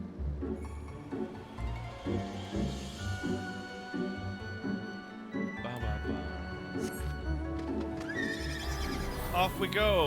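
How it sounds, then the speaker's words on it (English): A horse in Final Fantasy XIV whinnies loudly near the start, then its hooves clip-clop in a steady rhythm while game music and effects play and someone talks over them. "Oh, with the magic horsey."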